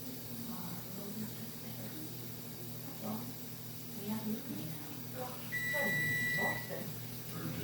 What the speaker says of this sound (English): sounds like my oven is preheated at 350 degrees, and it sounds like it is ready for our asparagus